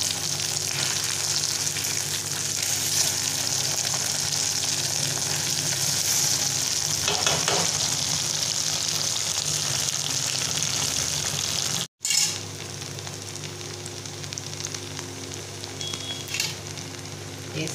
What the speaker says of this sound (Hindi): उसके बाद फिर हम इनको अलटते पलटते हुए गोल्डन ब्राउन कलर की सेक लेंगे